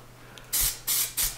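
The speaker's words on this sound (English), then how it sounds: "Then I like to spray a little bit on the ceiling." Contact-cement-like glue is sprayed onto a ceiling and a control joint piece in three short hissing bursts, close and loud, with brief pauses between them.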